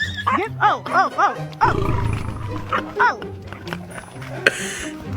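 Several dogs bark, growl and let out rising, whining yelps in short bursts, with a rougher growling stretch in the middle, while people talk over them.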